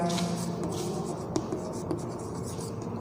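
Pen or marker writing during a maths lesson on series expansions, a steady continuous scratching close to the recorder with brief louder strokes, no talking.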